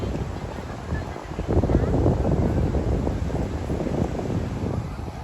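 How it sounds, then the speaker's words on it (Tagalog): Strong seaside wind roars steadily and loudly across the microphone with heavy buffeting, at a shore with rough waves in Bonbon, Catarman, Cebu. "Mahangin, malakas ang alon doon"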